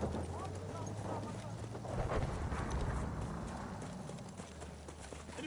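A horse galloping in the Battlefield 1 video game, rapid hoof clip-clops under game voice lines and low rumbling battle ambience.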